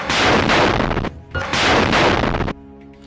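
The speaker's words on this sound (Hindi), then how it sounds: "वो उसके सामने जा रहे आईडीएफ के बुलडोजर पर ये रॉकेट फायर कर देते हैं" Rockets fired at an IDF bulldozer in combat in Jabalia, Gaza: two long, loud roaring blasts of explosion and gunfire, each over a second, separated by a brief lull, ending in a quieter hum.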